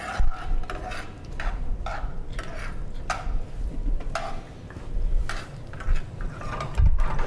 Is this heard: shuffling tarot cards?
no